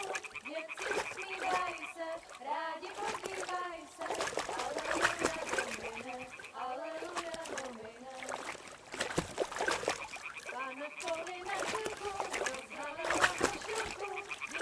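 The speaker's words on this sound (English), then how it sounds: "Throw a stone in the water near her to lure her away." Stone tossed into water in the video game Kingdom Come: Deliverance 2, splashing amid a busy outdoor soundscape of game ambience, bird calls and chatter-like noise, with scattered splashy bursts throughout.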